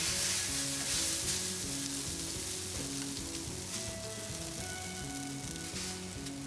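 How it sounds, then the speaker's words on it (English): Noodles fry in a hot pan for a Prairie Fresh pork char siu family stir fry, giving a loud, steady, close sizzle that runs unbroken throughout, with faint music behind it and no talking. "now we're gonna fry them, finish them off"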